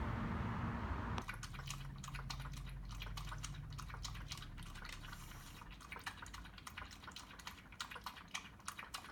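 A pet laps water steadily, a quick run of small wet clicks and splashes close by against a faint hiss, going on for several seconds without any talking.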